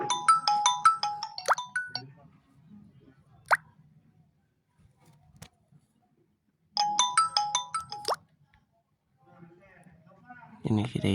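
A telephone rings in two bursts of bright warbling tones, each a couple of seconds long and separated by a pause, over a soft background murmur of someone talking.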